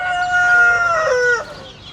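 A rooster crows loudly and close by, a long drawn-out call that cuts off sharply, with faint clucking from hens in the background.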